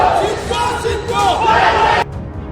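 Rival crowds of political supporters shout slogans and cheer for two party leaders at a rally in Mangaluru, a dense, continuous roar of loud overlapping voices that cuts off abruptly near the end.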